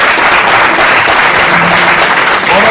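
A loud, unbroken roar of applause fills a science-centre museum hall during a virus-awareness workshop, many hands clapping at once throughout the short burst.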